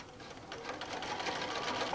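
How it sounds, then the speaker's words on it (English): Sewing machine stitching a seam on an iCases bag, a close, steady whirring drone that builds slightly in loudness, with no talk. "we're going to stitch basically down on the other side"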